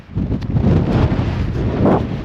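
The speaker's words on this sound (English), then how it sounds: "This shit was windy as fuck." Strong mountain wind buffeting the microphone, a loud, continuous low rumble and roar with gusting swells and no voices, filling the whole stretch.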